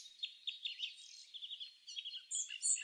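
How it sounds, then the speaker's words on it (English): Clamorous reed warbler singing, a fast, scratchy run of high chirps and chattering notes that goes on without a break, fairly faint and a little distant, with no voices. "You're listening to the clamorous reed warbler"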